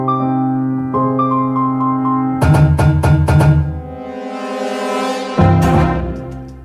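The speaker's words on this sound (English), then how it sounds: "that's nothing more than a riser that I reverse and panned it left and right a couple of times" A reversed riser built from prepared piano samples swells and pans left and right, mixed with deep horn-like tones and bursts of bright percussive hits. It builds loud and dense, then thins out and surges again, with no voices.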